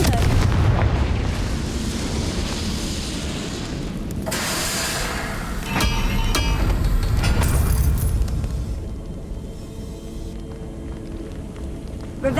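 Confringo fire spell blasts in the Hogwarts Legacy video game, loud booming explosions and crackling bursts in quick succession, with a strong burst around the middle before fading into lower ambience.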